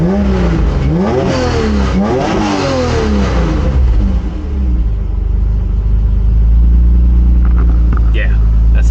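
A turbocharged Acura NSX on a dyno revs repeatedly, loud rising and falling engine sweeps for several seconds, then settles into a deep, steady idling rumble.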